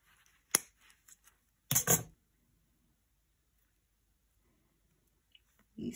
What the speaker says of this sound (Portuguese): Eu vou ter que cortar com a tesoura.